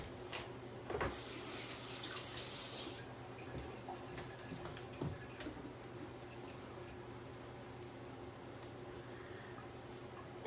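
A potato is rinsed under a running kitchen tap, with a burst of hissing water lasting about two seconds followed by faint drips and quiet handling in a home kitchen.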